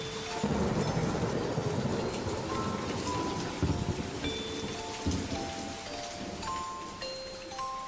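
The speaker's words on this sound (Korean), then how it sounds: "어느 날 아침 눈을 떠보니 창밖에 비가 내리고 있었어요." Steady rain falls outside for the whole stretch, a dense even patter with a low rumble, while light chiming music plays over it; no one speaks.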